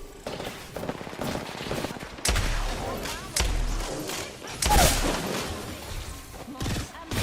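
Bursts of automatic gunfire in a video game, rapid rattling volleys and thuds coming in several clusters, loud against a voice talking between shots.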